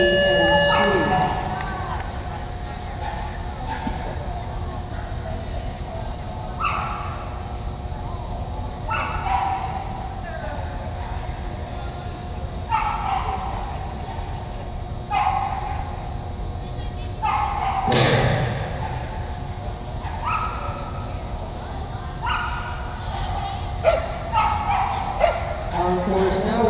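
Border Collies competing in a 16-inch select agility run at the UKI US Open bark and yip in short repeated bursts over steady arena noise, with people talking in the background.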